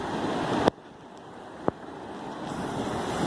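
Atlantic Ocean surf at Indian Harbour Beach, Florida: a broad wash of breaking waves and wind, loud at first, then cut to a quieter steady hiss with one sharp knock before the roar swells again.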